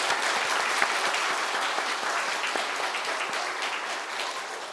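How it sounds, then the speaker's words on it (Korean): A church congregation applauds during a Sunday worship service, with sustained, dense clapping from many hands that fades gradually toward the end, and no one speaks. "기도하면서 우리 격려의 박수를 한번 돌리겠습니다."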